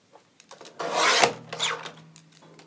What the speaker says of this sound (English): I love using the guillotine cutter.